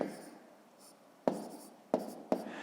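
Pen scratching on paper while numbers are written out by hand for a sixth-grade maths division exercise: a soft, close, steady scrape broken by three sharp taps, with no talking.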